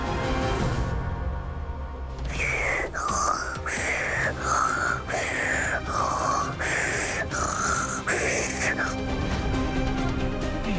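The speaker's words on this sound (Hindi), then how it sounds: "और खर्राटे भी ले रही है" A sleeping woman snores in a regular series of about eight rasping breaths, each one a loud rough pulse followed by a short pause, heard close up over a low hum.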